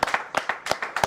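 Applause from the audience at a press conference: a quick run of about ten distinct, crisp claps at an irregular rhythm, close and fairly loud.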